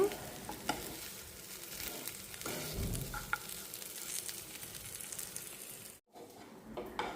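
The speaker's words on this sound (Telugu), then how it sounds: "ఈ స్టేజ్లో కొద్దిగా ఆయిల్ వేసేసుకొని అంతా మిక్స్ చేసుకుంటూ ఉన్నాను" Chicken is mixed as it roasts in a little oil, with a low, steady sizzle and the occasional scrape of a spoon against the pan, close but quiet, and a short break near the end.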